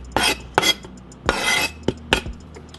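Parsley, green onions and onions are tossed into a pot for shrimp creole, making about five sharp scraping clatters of utensil against cookware spaced irregularly. Brief rustling follows some of the hits, and no one speaks.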